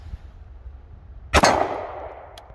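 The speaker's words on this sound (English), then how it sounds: "Let's see if the M&P will strike them and set them off." An M&P Shield 1.0 9mm pistol strikes and fires a hard-primer cartridge, a single sharp loud report with a short ringing decay, followed by a faint metallic click, outdoors and close.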